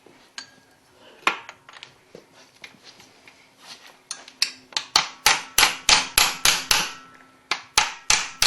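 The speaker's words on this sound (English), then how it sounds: "just an aluminium mandrel, just to tap a mandrel basically, so it doesn't damage the pin" A Porsche 911 gudgeon pin is tapped out with an aluminium mandrel during a crankcase stripdown, sparse light taps at first building into a steady run of sharp, ringing metallic hammer blows close by.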